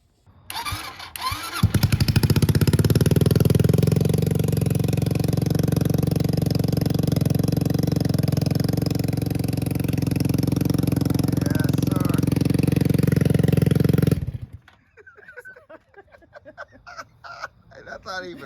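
An SC Project exhaust on an X22GT 250cc motorcycle idles loudly and close for about twelve seconds after a brief start-up, a steady rumbling burble that cuts off abruptly, followed by faint voices.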